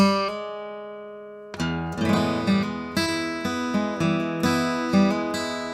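A single guitar note is plucked and then hammered up to a higher pitch, followed by several more plucked notes ringing clearly.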